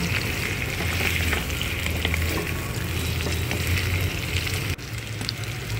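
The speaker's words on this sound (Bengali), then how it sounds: "কুমড়োতে লবণ, হলুদ গুঁড়ো দিয়ে ভেজে নেব।" Pumpkin pieces frying in oil with salt and turmeric give a steady, dense sizzle that stays close and loud throughout, with no talking.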